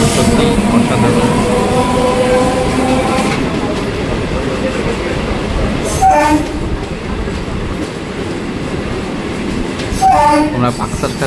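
A Kolkata local train runs from Majerhat toward Park Circus, its loud continuous rumble and rattling wheels filling the space, with horn-like tones sounding briefly near the middle and again toward the end.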